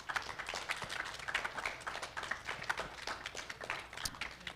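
Applause from a live evening audience at a constitutional debate, a dense, steady wash of many hands clapping at moderate level throughout, without speech.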